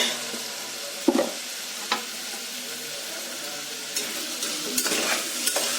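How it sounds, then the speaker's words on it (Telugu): A vegetable biryani mixture with a little turmeric is stirred in a pan, giving a soft steady sizzle broken by a few sharp spoon scrapes against the metal. "సో ఒకసారి మళ్ళీ మొత్తం కలుపుకోవాలి"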